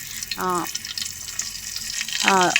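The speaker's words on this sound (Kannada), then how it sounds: "ಈಗ ನಾನೊಂದು ಪಾತ್ರೆಯಲ್ಲಿ ಸ್ವಲ್ಪ ಆಯಿಲ್ ಹಾಕಿ ಅದಕ್ಕೆ ಸಾಸಿವೆ ಮತ್ತೆ" Mustard seeds sizzle in hot oil in a pan while a green peas curry is cooked, a steady hissing crackle that runs throughout, with brief bits of talk at the start and end.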